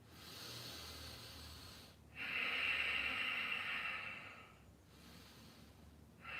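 Slow, deep breaths during a yoga puppy pose: a long airy exhale rising and fading, separated by quiet pauses, close and soft with no talking.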